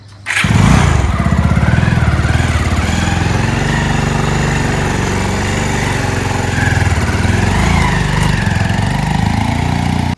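A motorbike engine starting up and running steadily close by, a loud continuous rumble that rises slightly in places, with no voices over it.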